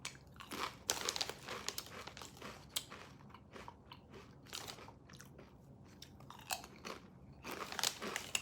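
Loud, close crunching as thick, ridged Lay's Magic Masala potato chips from India are bitten and chewed, with irregular bursts of crisp cracking repeating throughout and no talking.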